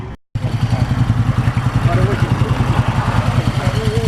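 A Moto Guzzi motorcycle engine idles nearby with a loud, even, throbbing pulse after a brief cut at the start, while people talk over it.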